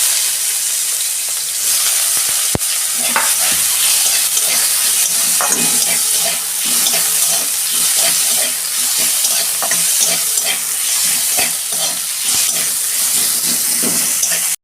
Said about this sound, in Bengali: ওই তেলে আমি 5 ফোড়ন দিয়ে দিচ্ছি। অল্প পেঁয়াজ দিচ্ছি।